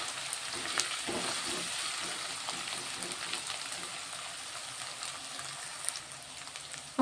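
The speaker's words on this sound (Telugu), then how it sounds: "ఆనియన్ కొంచెం బ్రౌన్ కలర్ వస్తే చికెన్ చాలా టేస్ట్ ఉంటుంది, అందుకోసమే కొంచెం ఫ్రై చేస్తున్నా" Onions frying in a pan for a spicy chicken fry, browning with a soft steady sizzle and faint crackles, quiet and close with no talking.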